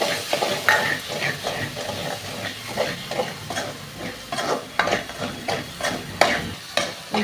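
Tomatoes with chilli and turmeric powder being stirred and fried for karuvadu thokku, a steady sizzle broken by repeated rhythmic scraping strokes of the spoon, close and moderately loud with no talking.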